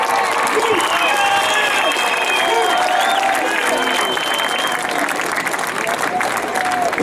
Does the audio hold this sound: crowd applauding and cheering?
yes